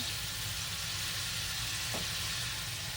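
Jerk shrimp sizzling in a pan for shrimp pasta: a constant, close frying crackle and hiss with no pause, one small clunk near the end.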